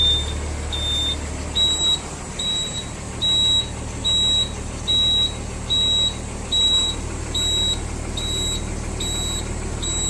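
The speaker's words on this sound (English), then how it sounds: "I don't know why this is beeping at me." A steady series of short, high electronic beeps repeats at an even pace over a low mechanical hum, with no voices.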